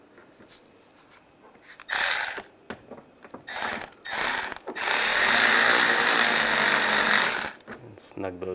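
Screws being driven and snugged down while fitting an A/C condenser on a 1999-2005 Volkswagen Jetta, heard as several short mechanical bursts followed by one longer sustained buzzing run, close and fairly loud.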